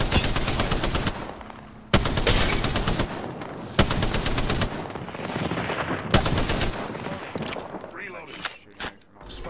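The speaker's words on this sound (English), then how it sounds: "I am taking fire, friends." Bursts of automatic gunfire in the battle royale game Apex Legends, several loud sustained volleys separated by short gaps, followed by sharper scattered shots, with a voice talking over the action.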